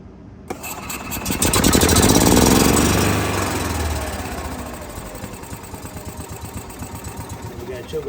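A gas Club Car DS golf cart engine cranks and starts, swelling to a loud uneven roar, then settles into a rough, stumbling idle with irregular pulsing beats close by.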